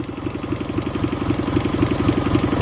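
A Dnipro-11 motorcycle engine runs after a kick-start, close and loud, with a fast, even, chugging idle pulse throughout.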